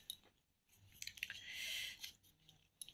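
Close, wet chewing of a sweet made from aamsatta (sun-dried mango leather), with soft crunchy bites and squishy mastication in irregular bursts and no talking.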